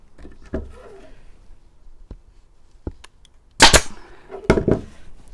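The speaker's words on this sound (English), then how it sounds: "so I'm just going to put one staple here at the front" A staple gun fires into the front of a wooden chest during an upcycling makeover. A few dull thumps and clacks come first, then two loud, sharp snaps close by with a short rattle after each, and no talk.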